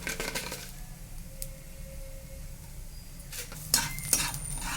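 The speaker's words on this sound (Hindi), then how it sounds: "अब इसे मिला देंगे।" A spoon stirs sugar into pulao in a metal kadhai, with soft scraping and a few sharp metallic clinks near the end, close and fairly quiet.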